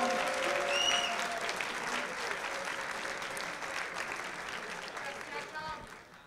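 An audience at a live NBA-themed show in Paris breaks into applause, a dense wash of clapping that swells at first and slowly thins out, with a few faint voices mixed in.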